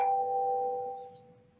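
A single smartphone doorbell notification chime rings once, a clear sustained tone that slowly fades out in a quiet room.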